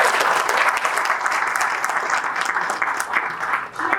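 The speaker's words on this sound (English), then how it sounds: "Give him a round of applause." An audience at a Deepavali celebration and anniversary event breaks into sustained, dense applause right after a speech, loud and even throughout before easing slightly near the end.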